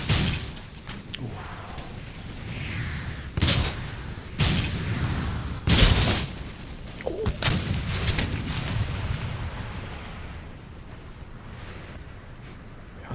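Cannon artillery fire in the Empire: Total War video game, with several loud booming blasts at irregular intervals over a steady rumbling battlefield background.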